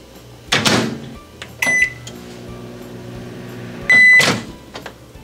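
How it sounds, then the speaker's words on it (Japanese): A 600-watt microwave oven runs with a steady low hum, heating eggs in water, with a couple of clunks and bright beeps at the start and near the end. "電子レンジ600ワットで1分加熱します。"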